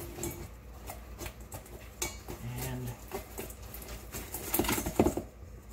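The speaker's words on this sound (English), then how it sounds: "Take our potatoes and drop them into a bowl with a paper towel." Crispy fried potatoes tumble into a bowl lined with paper towel, giving a scatter of light clatters and taps, with a couple of louder knocks near the end.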